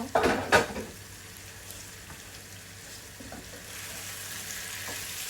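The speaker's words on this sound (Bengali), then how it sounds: "পেঁপেটা একটু কষানো হোক আর মিডিয়াম আঁচে দিয়ে রেখেছি" Raw papaya sautéing in a pan over medium heat, a soft steady sizzle after a few brief clatters of a utensil at the start, quiet and close with no talking.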